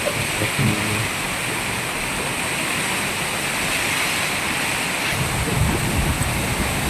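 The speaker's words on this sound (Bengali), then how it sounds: "প্রচন্ড বাতাস" Steady roaring wind blows hard and continuously during a rainstorm, with a rushing, surf-like wash and occasional low buffeting gusts.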